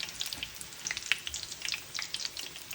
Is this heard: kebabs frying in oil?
yes